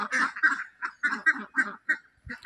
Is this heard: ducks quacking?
yes